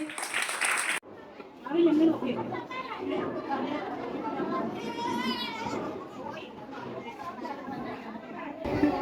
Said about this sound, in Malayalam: കുഞ്ഞുങ്ങളെല്ലാവരും നല്ലപോലെ ഒന്ന് കൈയടിച്ചേ